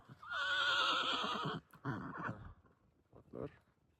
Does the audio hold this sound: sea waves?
no